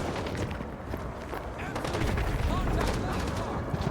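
Sustained gunfire fills a battle in the video game Call of Duty MW2 Remastered, a dense fusillade of overlapping shots and bursts under shouted voices.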